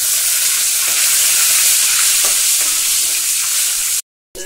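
Garlic frying in hot oil gives a loud, steady sizzle and crackle that runs unbroken, then cuts out abruptly near the end.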